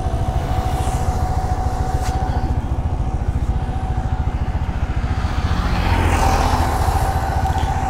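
A Thriller 160 4V motorcycle riding along a road, its engine a loud steady close drone with a rhythmic thrum that swells as the rider accelerates toward the end, with wind rush over the microphone.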